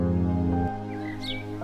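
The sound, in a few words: birds calling near a river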